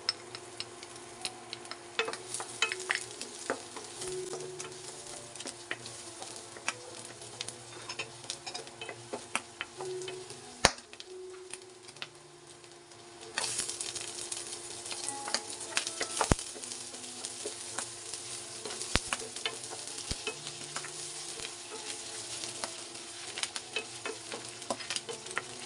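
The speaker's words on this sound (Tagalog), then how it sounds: "Medyo nagmamantika na ang ating giniling. Lagay natin ang ating sibuyas," Ground meat fries in oil with onion and garlic, a soft steady sizzle broken by scraping stir strokes and small clicks of a utensil against the pan, faint and close, no talking.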